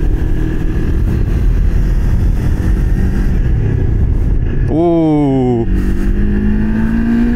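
A motorcycle rides along with a loud, continuous engine drone and wind rumble, a voice briefly heard partway through, and the engine pitch rising toward the end.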